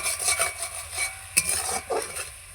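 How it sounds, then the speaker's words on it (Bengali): Spoon stirring cabbage in a pan with turmeric, chili and cumin powder, cooked on a village clay stove; close scraping and clinking strokes in an irregular rhythm with a soft sizzle underneath, no talking. "এরপর হলুদ শুধু গুঁড়ো লঙ্কা গুঁড়ো জিরে গুঁড়ো দিয়েছি ভালো করে কষাতে হবে"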